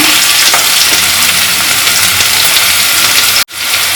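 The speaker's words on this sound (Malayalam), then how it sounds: "ഇതിലേക്ക് നമുക്ക് അരിഞ്ഞു വെച്ചിരിക്കുന്ന ഉള്ളി ചേർത്ത് കൊടുക്കാം" Chopped onions and curry leaves sauté in hot oil for Kerala-style okra mappas, a loud, dense, steady sizzle close up that cuts off abruptly near the end, with no speech.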